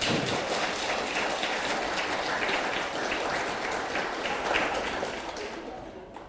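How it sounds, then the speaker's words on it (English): An audience at a lecture gives a speaker steady applause, a dense wash of many hands clapping that holds throughout and fades out at the end. "Please give big applause to Bu Elske"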